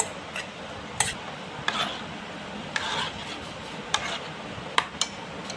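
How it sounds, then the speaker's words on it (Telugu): Sago pearls being stirred into a coconut and rice mixture for rice flour payasam, giving soft scraping and rubbing with a few sharp spoon clinks against the pot, fairly faint and close, with no talking. "ఇప్పుడు ఈ సగ్గు బియ్యాన్ని ఈ కొబ్బరి బియ్యం మిశ్రమంలో వేసి బాగా కలుపుకోవాలి"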